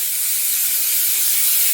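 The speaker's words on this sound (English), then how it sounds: "spray that under area" A steady, continuous aerosol hiss of hairspray, bright and close, lasting nearly two seconds before cutting off.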